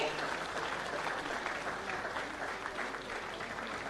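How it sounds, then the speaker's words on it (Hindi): Sustained audience applause fills a school-principals' recognition segment at a Jharkhand appointment-letter distribution ceremony attended by Chief Minister Hemant, a dense steady clapping wash holding even throughout. "तालियां लगातार होती रहे"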